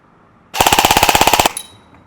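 An EMG Sharps Bros AEG airsoft gun powered by an 11.1 volt LiPo fires one loud, close burst of about a second at roughly 17 rounds per second, a rapid even mechanical rattle that stops sharply, leaving a brief ringing tail.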